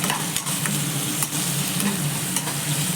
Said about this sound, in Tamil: ஒரே ஒரு தக்காளி நல்லா கட் பண்ணி வச்சுட்டு அதையும் போட்டு எண்ணெயில் நல்லா வதக்கி விட்டுருவோம்